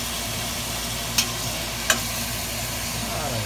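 Ground beef for a red wine bolognese sizzles steadily in a pan, a close, even frying hiss with a couple of brief sharp clicks from stirring.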